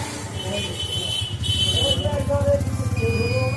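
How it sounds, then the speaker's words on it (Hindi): A multimeter gives a continuity beep while resistors on an Intel H61 desktop motherboard are tested: short high electronic tones sound briefly and then return steadily near the end, over a low mechanical hum. "ये देखिए बीप साउंड हो रहा है"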